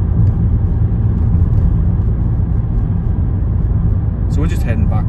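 A car driving on roads around Gateshead makes a constant low engine and road rumble close inside the cabin, with a short higher rattle near the end.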